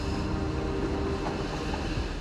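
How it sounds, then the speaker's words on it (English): A train on Norway's Rauma line rolls out of a tunnel, a dense, steady rumble of wheels and carriages with a faint tonal whine, close and continuous without any voices. "The train exits the tunnel facing in the opposite direction."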